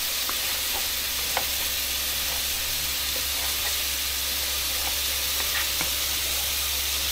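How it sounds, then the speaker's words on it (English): Steady sizzling of thinly sliced meat frying in a hot pan for stew, a constant hiss with occasional crackles and pops, close and fairly loud with no talking. "Just frying off everything."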